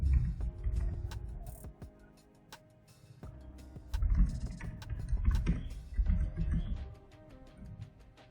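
Commands typed on a computer keyboard while configuring a Cisco VLAN, bursts of close key clicks and taps with short pauses between, over a low background rumble.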